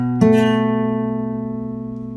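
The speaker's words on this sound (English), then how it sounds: "we're going to go from B all the way up to A, and that's a minor seventh" Two guitar notes, B and the A above, sounding together with a bright pluck, then ringing out and slowly decaying, forming a wide, slightly tense minor seventh interval.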